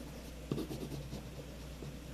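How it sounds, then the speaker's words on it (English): Soft scratchy strokes of a colored pencil on paper, a few quick rubbing passes close up, quiet and without talk. "that's why I'm coloring it now with the color pencil"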